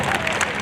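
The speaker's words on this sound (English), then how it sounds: "Let's go ahead and give a big round of applause." Brief burst of audience clapping and crowd noise at an outdoor artillery firing demonstration, a dense patter of hands lasting under a second.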